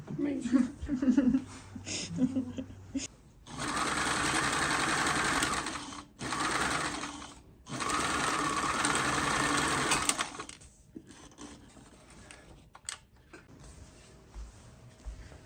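A sewing machine stitches cushion covers for a camper renovation, running in two loud sustained bursts of whirring and rattling with a short pause between them, with people talking before and after.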